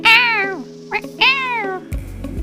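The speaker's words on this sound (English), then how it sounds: "He has a very specific meow." A pet cat meows twice, close and loud, each call a long drawn-out whining meow with a brief chirp in between, alone without talk.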